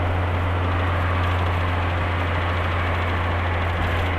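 A car engine, apparently a Fiat Elba with street fuel injection, runs at steady speed with the throttle closed and the injectors cut off for engine braking. The drone is loud, close and continuous, with no talk over it.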